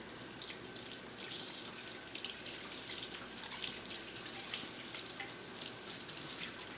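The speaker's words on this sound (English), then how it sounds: "let's just give it a good rinse real quick with some cool water" Cool tap water runs steadily over green onions in a kitchen sink, a continuous splashing hiss close by that stays even throughout with no talking.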